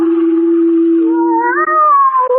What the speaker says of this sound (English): There's that cat again.